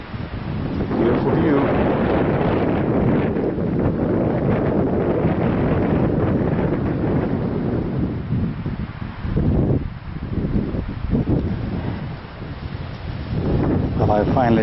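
Strong winter wind blows steadily among Douglas fir trees and dense conifers, a loud continuous rushing roar with gusty swells and buffeting against the microphone throughout.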